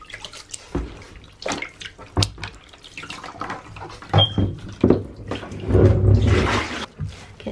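Wool being washed by hand in a basin of water: soft swooshes, splashes and drips come in irregular bursts, close up, with a louder sloshing stretch near the end and no talk.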